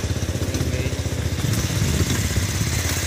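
A motorcycle engine chugging close by with an even, fast pulsing rumble and a rattly idle that grows slightly louder toward the end.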